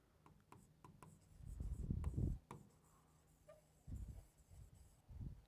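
A teacher writes on a classroom board in quick bursts of scratchy, tapping strokes, close and quiet with short pauses between clusters.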